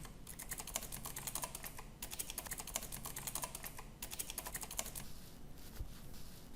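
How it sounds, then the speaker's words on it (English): Typing on a computer keyboard while adding staff in a Shopify store, rapid clicking keystrokes in three bursts separated by brief pauses, close and fairly quiet with no talk. "Type the name and the last name."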